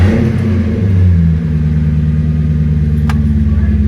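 A Lexus SC400 engine starts and rumbles loudly nearby, settling into a steady low idle after a brief rev.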